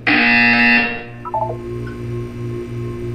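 A loud electronic video game buzzer sounds for about a second, then cuts off into a few short descending beeps and a low, steady hum.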